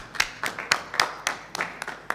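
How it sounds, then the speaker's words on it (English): Sparse, separate hand claps at a medical conference, roughly evenly spaced sharp strikes from a small number of people rather than a full ovation. "An applause from everybody to her,"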